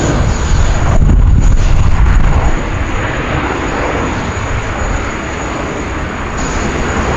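A Johannesburg-inbound airliner from South Africa arriving at Sydney Airport: a loud, broad engine roar that swells in the first few seconds, then settles into a steady, slightly softer rumble with a faint high whine above it.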